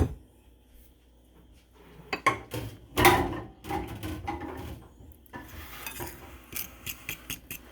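A fork mixes sour cream, eggs, flour and sugar for a Texas sheet cake batter in a bowl, giving quiet scraping and stirring with a few sharper clinks against the bowl, soft and close, no voice.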